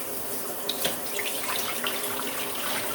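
Water running from a tap into a pan for dyeing dry fiber such as gray Gotland wool, a steady close-up rush and splash with a few brighter drips and spatters, no talking.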